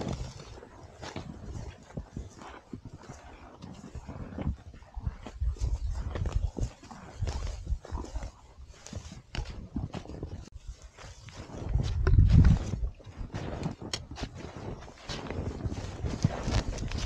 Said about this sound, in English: You can still hear the cows ripping grass.